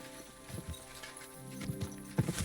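Hooves of Pebbles, a horse ridden off-road in Kingdom Come Deliverance II, clop in an uneven walking rhythm over soft ground, growing clearer and louder toward the end against a quiet background with no talk.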